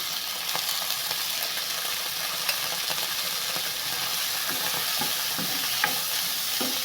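Steady sizzling and frying of cauliflower in a pan with occasional stirring clinks and scrapes, close and continuous, no voices.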